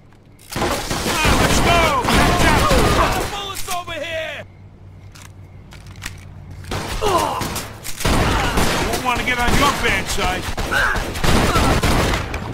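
Bursts of gunfire in the Mafia 2 video game crack sharply and loudly in clustered volleys, mixed with shouting voices and a brief quieter lull midway.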